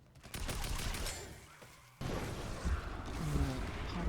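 A Tactical Assault Rifle fires in Fortnite Horde Rush: quiet, dense gunfire and impact noise crackle over a busy game background, with a sudden shift in the mix midway and no speech.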